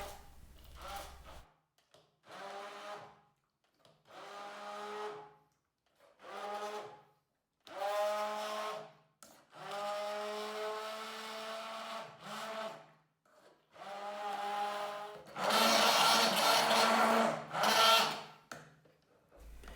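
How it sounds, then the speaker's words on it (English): A blender pureeing pumpkin whirs in repeated bursts, roughly eight pulses of grinding motor noise separated by short pauses, the last burst louder and harsher. "I mash it with the help of a blender"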